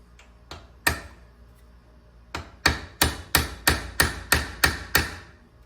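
Sharp metal hammer blows drive a rivet through a supplied punch on a 1972 GMC Jimmy vent window, a few scattered strikes giving way to a steady run of about eight evenly spaced, ringing hits, close and loud.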